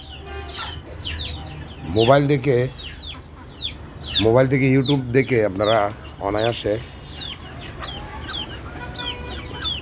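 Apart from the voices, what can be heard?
native chickens clucking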